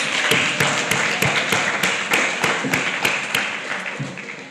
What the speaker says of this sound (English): Can we just give Mr. Creel a round of applause for that wonderful speech?